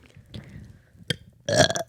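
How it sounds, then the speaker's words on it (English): A single loud, close burp comes during a podcast recording, a short rough belch that follows faint throat noises and a brief click. "I can never burp."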